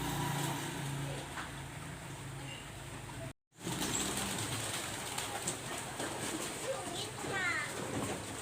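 Birds call in the morning outdoors near a village, faint intermittent chirps over a steady low background rumble, with a brief dropout partway through.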